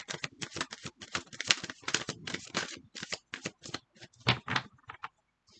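Tarot cards being shuffled by hand, with quick crisp bursts of riffling and flicking in irregular clusters, close and fairly quiet, with no voice over them.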